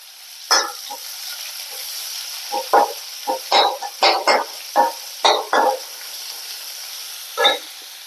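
Onion and small shallots are stirred in a pan for a Kerala egg varaval, with a series of short, irregular scraping strokes over a faint, quiet background sizzle.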